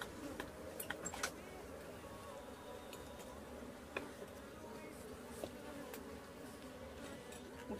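Bees humming around an opened cement brick hive box during an inspection, with young bees emerging from the comb; a steady close drone with faint clicks, and speech is audible partway through.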